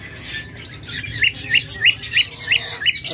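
Many pet birds, lovebirds, budgerigars and cockatiels, chirping together at close range, a rapid series of bright repeated tweets and squawks over a busy chattering background, with no talking.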